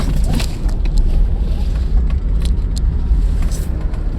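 A manual car driven during a driving lesson, its engine and road rumble steady and close, with wind buffeting the microphone throughout and no talk.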